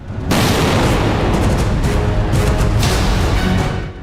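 A loud, sustained blast roars out, a dense wall of rumbling noise that holds for several seconds before tapering off.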